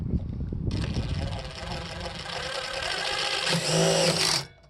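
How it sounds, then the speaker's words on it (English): A power drill whines steadily at high speed for several seconds, drilling holes in a Mercedes Sprinter van body, rising slightly in pitch before stopping, with rattling handling noise at the start and a voice briefly underneath. "we're going to go ahead and drill out these 3 down here"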